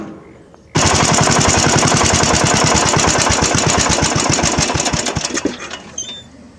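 Yard Machines riding mower engine running hard through mud, a loud rapid popping chatter that starts abruptly and holds steady for several seconds before slowing and fading.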